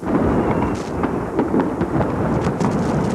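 More than 1,600 fireworks shells go off in a massive ground-level explosion at a 1988 Duluth, Minnesota fireworks display, heard as a dense, continuous roar of booms and crackling bursts, loud and sustained throughout.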